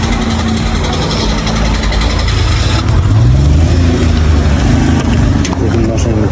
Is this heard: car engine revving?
yes